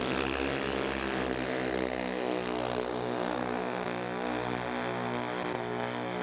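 Drag racing cars at an NHRA divisional event at Mission Raceway run down the eighth-mile track, producing a loud, steady engine drone with strong harmonic layers that holds for several seconds.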